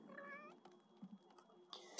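A pet cat in The Sims 3 lets out a short, clear meow at the start, followed by soft game clicks and a quick sharp tap at the end, no talking.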